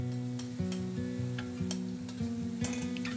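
Steady sizzling and scraping stir-fry sounds rise from a wok as aromatics for a Chu Hou sauce beef brisket braise are tossed, the crackle continuous and close under background music.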